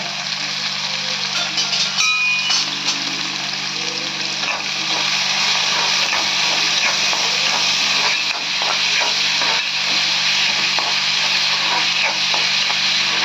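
Chopped onions and curry leaves sauté in hot oil for chicken thokku, giving a steady, fairly loud sizzling hiss throughout with a few faint clinks from the pan.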